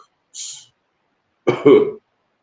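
Two short, harsh coughs close to the mic, a brief one followed about a second later by a heavier, louder burst, with silence around them.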